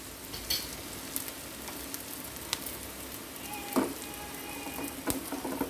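A tempering of turmeric and asafoetida sizzles softly in hot oil, a faint, steady crackle with a few sharper pops and light clicks, no voices.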